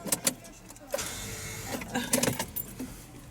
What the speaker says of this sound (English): That's the sound of a dead battery.